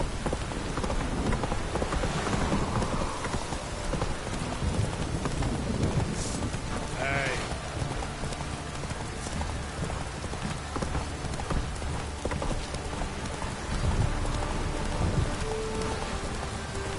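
Horse hooves clip-clop at a gallop through steady rain in The Witcher 3, the drumming rain filling the whole stretch while hoofbeats run underneath at a moderate distance, with no speech.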